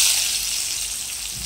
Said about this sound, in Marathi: तडक्यासाठी मी एका कढईत लसणाच्या पाकळ्या कट करून घेतले, 2-3 लाल मिरच्या घेतले आणि हा तडका टाकला ना